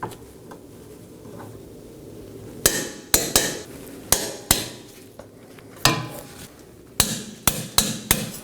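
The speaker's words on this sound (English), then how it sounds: "Now I'm going to go ahead and torque all 3 bolts down to 74 foot-pounds." A torque wrench tightens the three rear wheel knuckle bolts to 74 foot-pounds on a 2018-2024 Chevrolet Equinox. About a dozen sharp, close metallic clicks come at irregular intervals over a low hum.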